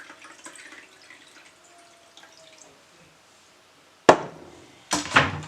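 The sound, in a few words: detox water being poured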